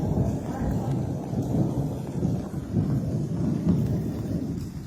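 Heavy rain pours steadily over the Reda area of Amran, Yemen, during a summer thunderstorm, with a dense, loud roar and deep rolling rumbles of thunder throughout.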